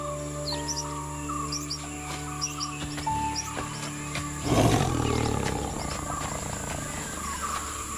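A fertile female tiger lets out a single deep, rumbling roar midway through, loud and close, while birds chirp and tweet steadily in the wild surroundings before and after.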